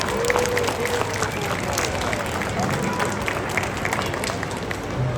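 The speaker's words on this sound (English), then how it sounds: "let's give Pablo a big round of applause as he makes his way down" Broad, dense applause from an audience at a sea lion show fills the whole stretch, steady and fairly loud with crowd noise mixed in.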